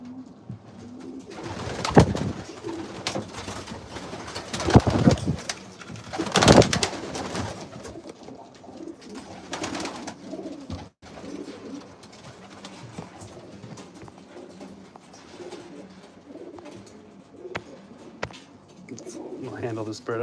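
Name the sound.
pigeons cooing in a breeding loft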